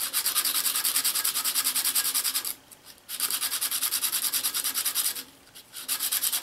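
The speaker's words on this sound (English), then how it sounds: "I'm going to hand sand it until I'm satisfied with it." A reclaimed wood bandsaw box is hand sanded with fine sandpaper in fast, close back-and-forth rhythmic rubbing strokes, stopping for two brief pauses.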